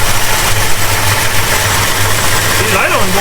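A 1969 Plymouth Road Runner's 440 V8 idles steadily after more than 20 years sitting dormant, a low continuous rumble with a faint pulsing beat. A voice is heard briefly near the end.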